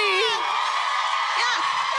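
Live theater audience at a podcast taping screams, whoops and cheers in a dense, sustained roar with shrill yells rising over the crowd throughout.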